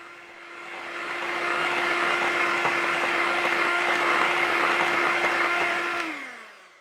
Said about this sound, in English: gently mix with the hand mixer